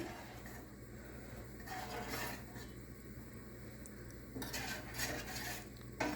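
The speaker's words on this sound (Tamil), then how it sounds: "ஸோ இதை கான்ஸ்டண்ட்டாக நல்லா ஸ்டிர் பண்ணிகிட்டே நம்ம இருக்கணும்" Ragi (finger millet) flour porridge being stirred in a pan, a soft continuous scraping and rubbing of spoon against metal with occasional clinks, steady and close over a low background hum.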